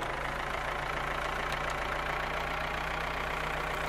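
A tractor engine idles in the farming video game Farmer's Life, a steady low mechanical rumble with an even throb that runs unchanged throughout, with no talking.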